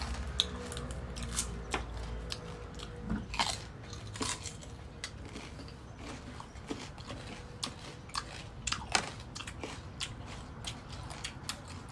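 Crispy green mango is crunched and chewed close up, with sharp crisp bites and repeated moist crunching at an irregular rhythm.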